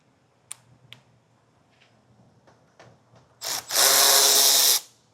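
A power tool runs in one steady, loud burst of about a second while removing T20 Torx bolts on a 2016 Jeep. Scattered small clicks and taps come before it.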